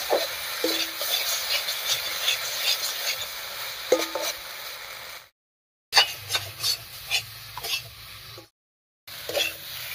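Boiled, broken potatoes are stirred and mixed with spices in a frying pan for an okra (bhindi) dish. A spoon makes repeated close scraping strokes over a light sizzle, broken by two brief silent gaps.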